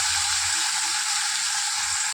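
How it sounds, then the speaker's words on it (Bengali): Silver carp frying in hot oil in a wok gives a steady, loud, bright sizzle that holds unbroken for about two seconds before cutting off abruptly. "মাছটা ভাজার জন্য প্রথমে আমি কড়াইতে তেল দিয়ে দিয়েছি। এবার দিয়ে দেবো মাছ।"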